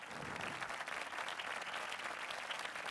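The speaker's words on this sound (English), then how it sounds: "A giant round of applause for Matthew Hussey." Dense, steady applause from a live event audience, a continuous wash of many hands clapping at moderate distance, fairly faint and without a break.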